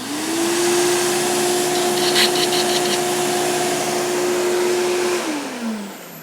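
A Riccar 8955 upright vacuum cleaner with adjustable suction and worn detents runs close by: a loud steady motor whine holds for about five seconds, then drops in pitch as it winds down, with no talk.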